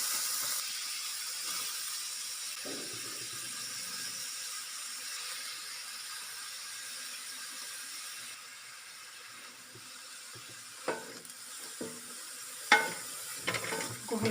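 Vegetables fry in butter and oil with a steady, loud hiss and sizzle. A few sharp clinks of stirring come near the end, and no one speaks.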